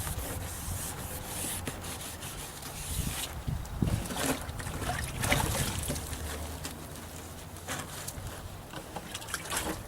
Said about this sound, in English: The sanding also helps remove any contaminants that might be embedded in the plastic.